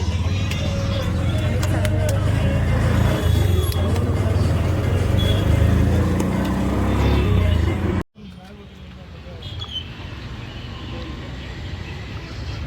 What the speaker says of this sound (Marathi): आमची रिक्षा आहे.